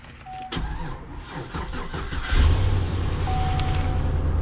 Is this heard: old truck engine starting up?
yes